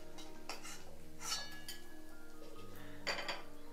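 A fried bhetki fish cutlet, Kolkata style, is set onto a plate, giving a few soft, faint clinks of plate and utensil against a quiet kitchen background.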